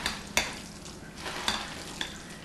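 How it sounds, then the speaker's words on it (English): Broccoli-rice casserole mixture with cheese being stirred in a pan, a few sharp spoon scrapes and clinks over a soft, steady sizzle, close and fairly quiet. "Now stirring a little bit more."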